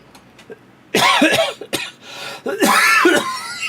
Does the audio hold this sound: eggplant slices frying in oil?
no